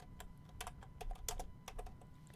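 Computer keyboard keys being typed, a short irregular burst of clicks and taps, close up and fairly quiet, heard alone without talk.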